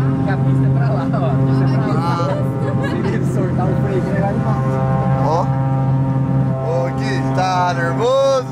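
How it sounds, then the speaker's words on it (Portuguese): Small aircraft engine revving hard while stationary on the ground before takeoff, a loud steady drone with strong harmonic bands throughout, with people talking excitedly over it. "Ele tá acelerando tudo parado"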